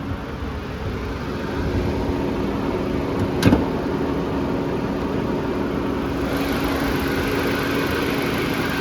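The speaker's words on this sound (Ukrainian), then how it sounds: "Дуже тихо працює двигун." A 2014 Nissan Juke idles with the hood open, giving a quiet, even engine hum that holds steady for nearly nine seconds, broken by one brief click midway.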